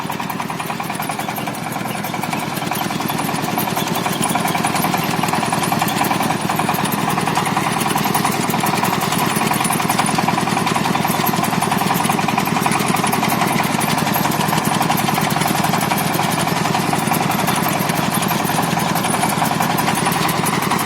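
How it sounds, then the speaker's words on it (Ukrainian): Homemade vibrating potato digger pulled by a Sintai T-24 RM mini tractor, a loud steady rattling clatter over the engine's continuous drone, unbroken throughout. "Копаем картошку своєю саморобною копалкою."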